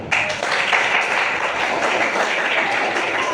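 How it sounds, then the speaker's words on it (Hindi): An audience breaks into loud, steady applause, a dense wash of clapping that holds evenly for the whole stretch with no voices over it. "अपने लिए जोरदार तालियां।"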